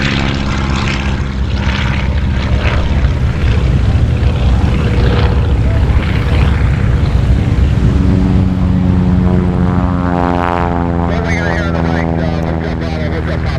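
A yellow high-wing propeller airplane with an orange stripe takes off at Oshkosh, its engine droning loud and close before the pitch climbs and sweeps as it accelerates away, with a voice talking at times.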